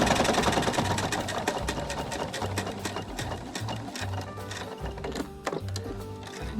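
A sewing machine stitches binding onto a quilt, running steadily at close range with a rapid mechanical chatter and brief pauses and restarts in its rhythm.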